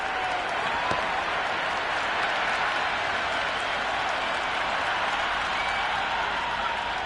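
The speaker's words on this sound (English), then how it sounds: "the crowd have joined the party. It's pretty noisy at the ground." A cricket ground crowd roars and applauds in a steady, dense wash of cheering and clapping that holds loud throughout, with no clear voices standing out.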